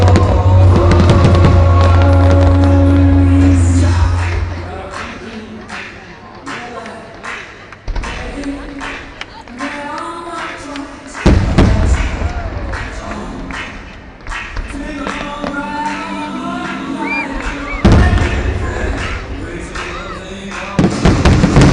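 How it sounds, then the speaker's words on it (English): Barcelona fireworks musical display with a fountain, palace and music: dense crackling bursts and booming thuds pop continuously, loud and layered over music and crowd noise. "45 minutes of awesome fireworks."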